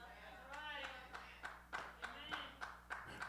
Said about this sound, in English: Thank you for that clap and 2 amens